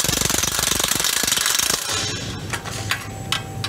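A Milwaukee M18 high torque impact wrench with a large square drive hammers loudly and continuously on 14mm bolts, then stops, leaving scattered clinks and mechanical rattles as the bolts come free.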